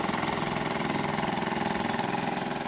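A small river boat motor runs on an Amazon river, giving a steady, even engine drone with a fast rhythmic throb that holds constant and close throughout.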